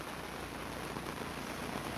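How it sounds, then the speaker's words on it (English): Steady, even rain falling in the Northern Territory at the end of the dry season, a soft continuous hiss of drops on surfaces with no talking, faint and unbroken throughout. "Rain in the Northern Territory."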